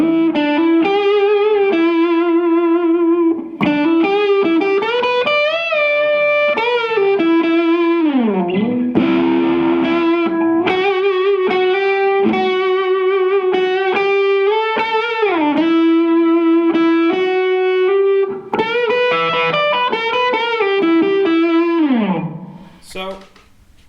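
An overdriven electric guitar plays a sustained lead melody with bends and slides, loud and upfront for over twenty seconds, with no talking.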